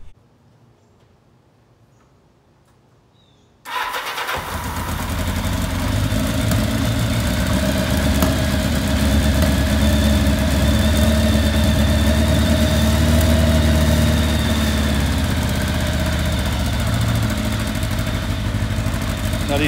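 A Kawasaki KZ750 motorcycle fitted with temporary exhaust baffles starts after a few quiet seconds and settles into a steady, loud, throbbing idle that runs on evenly to the end.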